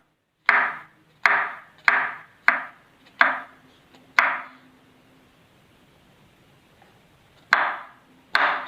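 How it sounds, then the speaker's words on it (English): Knife chopping mushrooms on a cutting board for cream of mushroom soup: a steady run of six crisp, close chops, a pause of about three seconds, then two more chops. "So I'll continue chopping my mushroom."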